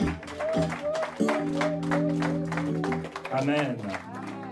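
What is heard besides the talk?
congregation applauding for the Lord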